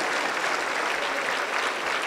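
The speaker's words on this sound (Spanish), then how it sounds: "Un fuerte aplauso para el Señor Jesús" Sustained applause from a church congregation, a dense steady wash of many hands clapping together with no voices rising above it.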